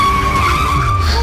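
A racing car in a video game skids with a loud, continuous tire squeal over a steady engine drone, lasting just over a second with no talk.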